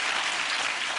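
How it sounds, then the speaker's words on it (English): A television studio audience at a chat show applauds in one steady, loud wash of clapping that holds throughout without a break. "you're applauding a man in trouble"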